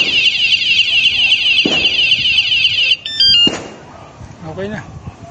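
A vehicle alarm under test emits a loud, steady high-pitched electronic tone for about three seconds, then a short burst of chirping beeps before it cuts off, followed by brief clunks and voices.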